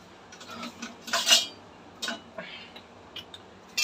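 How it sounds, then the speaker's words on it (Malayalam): Two onions are chopped, heard as a short run of irregular knife knocks and clicks on a board, close by, with one louder burst of taps in the middle and quiet gaps between. "ഞങ്ങൾ 2 ഉള്ളി ഇപ്പം കണ്ടിക്കാം."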